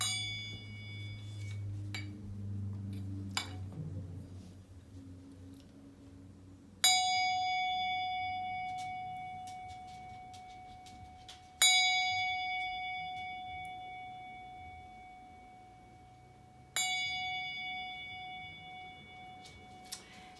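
A bell rings to open a worship service, three clear, well-spaced strikes, each with a sharp attack and a long fading hum, over a quiet room with faint low background rumble.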